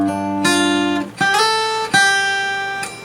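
Slide guitar chords from a Laid Back Guitars lesson, three strummed chords that each ring out and slowly decay, clear and close with no talking.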